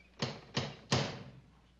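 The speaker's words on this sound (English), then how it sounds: "he goes over to her apartment to apologize for bawling her out, you know. And he knocks on the door" Three sharp, evenly spaced knocks land on an apartment door in a classic TV sitcom scene. They are crisp and fairly close, with a short ring-out after each and quiet in between.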